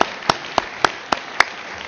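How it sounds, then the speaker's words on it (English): Scattered handclaps from a conference audience after a panel, five distinct sharp claps spaced evenly over two seconds rather than a full ovation, faint and fairly close. "Please join me in giving them a great round of applause."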